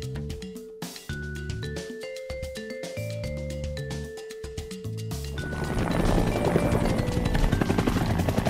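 Game music with bright synth tones from Sesame Street's The Big Moving Adventure plays, then gives way to the rapid thudding chop of a cartoon helicopter whirring loudly for several seconds.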